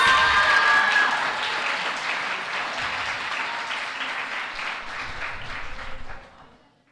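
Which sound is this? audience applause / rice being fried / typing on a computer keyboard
audience applause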